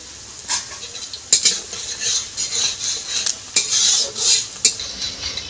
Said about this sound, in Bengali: আমি পেঁয়াজের মধ্যে নারকেলটাকে দিয়ে ভেজে নিলাম কিছুটা